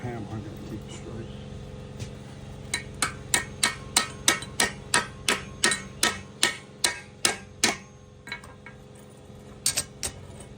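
A hammer strikes a metal chain plate in a steady run of about fifteen sharp blows, pauses, then lands a few more hits, with workshop noise and a low hum behind.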